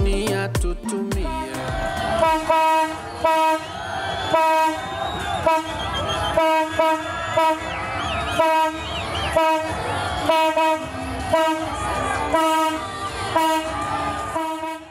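Tanzanian passenger train on its first trial run from Dar es Salaam toward Arusha, passing Usa River: loud, sustained multi-tone horn blasts repeating over steady rumbling wheels and carriages close by.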